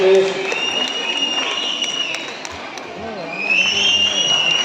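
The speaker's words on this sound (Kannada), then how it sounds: "ನಮ್ಮ ಚಪ್ಪಾಳೆ ಮಕ್ಕಳಿಗೆ" An audience at a children's stage performance during Mysuru Dasara claps steadily throughout, a moderate roomful of applause with a voice and tonal sounds over it.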